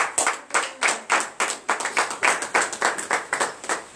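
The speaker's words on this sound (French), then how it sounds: "Donnez l'acclamation à Jésus." A church congregation claps in acclamation to Jesus during a morning prayer service, with rhythmic, steady hand claps repeating roughly twice per second, close and fairly loud, with no talking.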